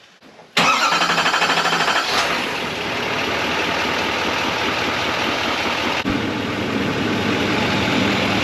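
Following an oil change, a vehicle engine cranks and catches with a loud burst, then settles into a steady, even idle that runs on alone.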